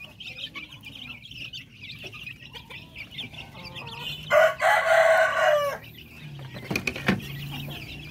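Darag native chickens in a backyard, with soft clucking throughout and a loud rooster crow rising midway, followed by a few sharper calls and clucks nearby.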